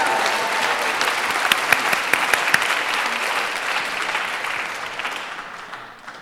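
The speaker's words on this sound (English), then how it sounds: "Ladies and gentlemen, a round of applause for our conversants." A loud, sustained round of audience applause for the conversants at a talk on democracy and the legacy of racism, with crisp individual claps in a full crowd wash that tapers off at the end.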